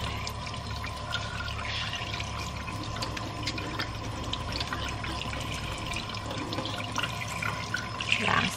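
Mackerel are rinsed under a running tap, a steady, even stream of water with faint splashing and dripping throughout, with no voices.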